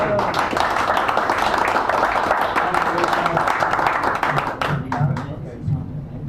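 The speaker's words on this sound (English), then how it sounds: "Give him a nice round of applause." Audience applause in a hall at a poetry evening at Sacred Grounds Cafe in San Francisco, dense and sustained at first, then thinning into scattered claps with some voices and noise near the end.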